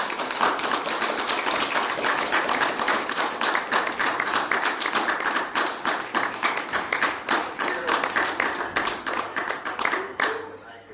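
Audience applause at an international scientific conference speech, dense steady clapping from many hands throughout, fairly close and loud, thinning slightly near the end.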